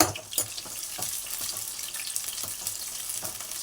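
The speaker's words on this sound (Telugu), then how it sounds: "పచ్చిమిరకాయలు ఇవి కొంచెం మగ్గనిద్దాం కలర్ కొంచెం చేంజ్ అయ్యేటట్టుగా మనం మగ్గనిచ్చుకుందాం" Onions and green chillies sizzling in a pan for a mutton drumstick curry, a steady frying hiss with soft stirring scrapes, no voices.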